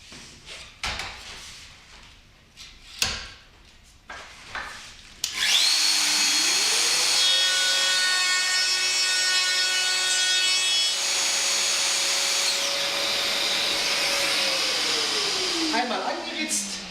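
A router cuts solid wood along a guide rail, a loud sustained whine rising to speed and holding for about ten seconds before spinning down, after a few seconds of handling knocks and rubbing.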